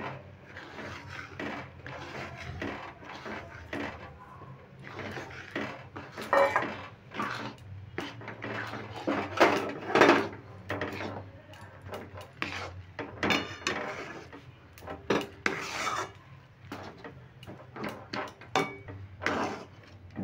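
Rice flour being stirred into boiling water in a pot on a medium gas flame for chusi pitha, with steady scraping, knocking and rubbing of a utensil against the pot, close and fairly quiet, no talking.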